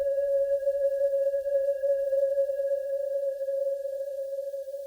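A sustained synth pad sits in a mix as one steady, even tone that holds unchanged for the whole stretch, fairly loud and alone with no voices.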